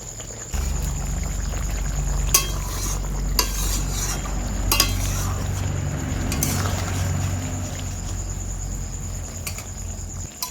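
Roasted spice powder being stirred into a pumpkin curry in a pot, a handful of sharp spoon clinks and scrapes over a soft continuous low simmer and hum, close by with no talking.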